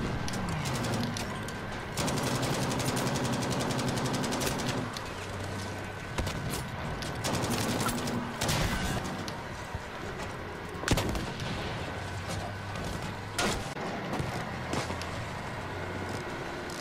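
Gunfire rattles through a Battlefield V tank battle involving a Panzer IV, with repeated sharp shots and heavy booming blasts spread across the whole stretch, loud and dense against a constant battle din.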